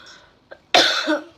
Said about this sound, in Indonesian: kok jadi batuk aja